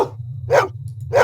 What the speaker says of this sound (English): Who's the best dog in the whole world?